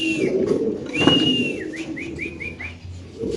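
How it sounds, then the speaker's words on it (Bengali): Mundian pigeons at a fancy pigeon farm give soft, close coos, with a series of short rising whistle-like calls repeating over a low background murmur. "আচ্ছা এখানে আছে এক পিস মুন্ডিয়ান কবুতর, ইন্দোনেশিয়ান থেকে আসে না ভাই?"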